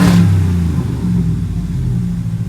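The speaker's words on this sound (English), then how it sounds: "Let me just rev it up a little bit." A 2019 Ram 1500 Limited eTorque pickup truck engine with a performance ECU revs up from a standstill inside a warehouse, a deep rumbling roar that climbs and then holds at a steady, loud idle-like growl, close to the microphone.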